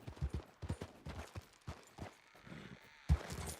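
Horse hooves clip-clop at a trot in Red Dead Redemption 2, a steady run of close, thudding beats with a brief whinny-like burst near the end.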